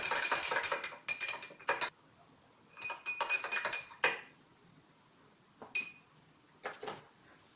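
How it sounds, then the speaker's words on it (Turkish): A teaspoon stirs sugar in a glass vessel while making homemade red plum wine, giving bursts of quick, close metallic clinking and tapping separated by short silent pauses. "Ve şekerle beraber karıştırıyorum."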